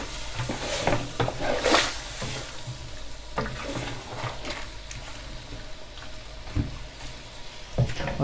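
Chickpeas with spices and dried mango powder sizzle in a pan while a spoon stirs and scrapes, with repeated close scraping strokes over a steady frying hiss.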